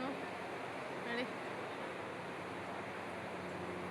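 Wind blows outdoors at a wedding house, a steady, faint, broadband rushing that stays even throughout with no distinct gusts.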